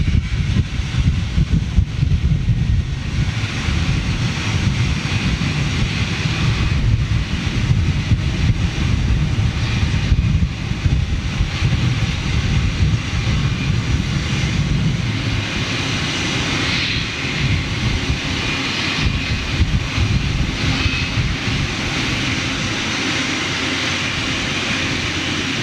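A Cathay Pacific Airbus A350-1000 taking off at Manchester Airport, a loud, steady roar of jet engines sustained throughout, with wind buffeting the microphone and a broad rumble that shifts slightly as the aircraft moves.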